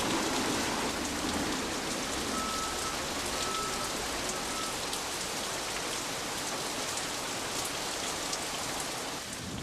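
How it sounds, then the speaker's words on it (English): A heavy afternoon downpour in Kuala Lumpur, Malaysia, pours down as a dense, unbroken roar of rain hitting surfaces. It stays loud and constant for the whole stretch, with no voices. "here would come the typical Malaysian Kuala Lumpur afternoon downpour"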